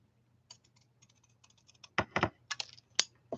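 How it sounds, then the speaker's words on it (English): Scissors snip through card paper during a snow globe card craft, giving a run of crisp, close clicks that grow louder and more clustered toward the end, with no talking. "I'm just going to take scissors and cut there."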